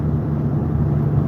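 A car engine left idling, a steady low rumble that holds even and close throughout with no other sounds on top.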